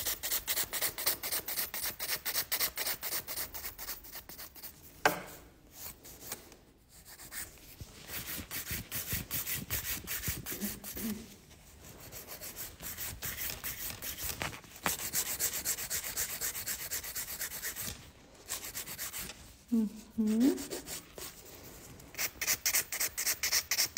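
Long nails being filed during a manicure give a steady, close rasping rub in quick repeated strokes, pausing briefly now and then before starting again, with no voices.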